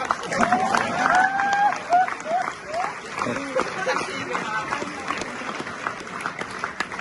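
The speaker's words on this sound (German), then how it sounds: "jetzt Applaus für den Dietmar" A crowd at a charity kids festival in Gommersheim claps for Dietmar, a burst of close applause mixed with voices and cheers that thins into scattered claps and chatter.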